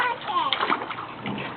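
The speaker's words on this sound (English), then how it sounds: "Let her splash now, Robert." A child splashing in water on an outdoor deck in summer, with quick wet slaps and sloshing, close up, as young voices chatter over it.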